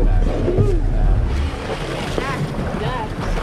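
A speedboat ride on Telaga Sarangan lake, where a steady roar of wind and rushing water fills the whole stretch and a faint voice occasionally breaks through underneath.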